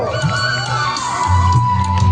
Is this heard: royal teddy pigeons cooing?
no